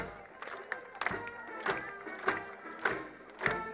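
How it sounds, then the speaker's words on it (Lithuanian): A crowd at a town festival in Kuršėnai, Lithuania, claps and cheers, with scattered sharp claps rising out of a steady wash of applause over about four seconds. "valio ir plojimai didžiausi"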